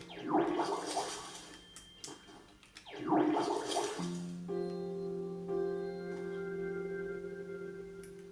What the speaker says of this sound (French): Allez, tranquille, on arrose.